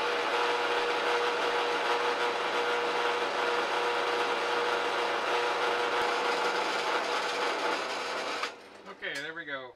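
A tool plunges slowly down to cut an opening through the side of a tube in a DIY borescope build, giving a steady, loud mechanical whirring grind that runs nearly nine seconds before stopping abruptly, followed by faint clatter.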